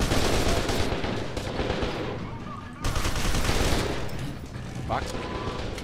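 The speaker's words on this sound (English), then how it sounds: "You fucking are shooting me." Sustained automatic gunfire in the shooter F.E.A.R. 2: Project Origins, a dense, continuous roar of rapid shots close up that barely lets up, with some speech underneath.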